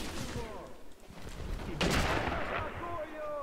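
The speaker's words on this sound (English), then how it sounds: "Some damn machine gun, wasn't it?" Dense bursts of machine gun fire in the WWII sniper video game Sniper Elite V2, loud and rapid with a heavier volley midway, under occasional talk.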